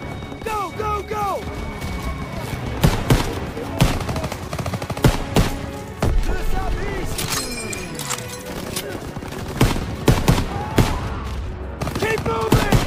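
Machine gun fire from MGs in a barn during a Call of Duty WW2 battle on PS4 Pro, loud dense bursts and rattling volleys with crashes and impacts throughout, under shouted voices.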